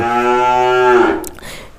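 A calf on a dairy cow farm gives one long, loud moo lasting about a second, then trails off into quieter rustling.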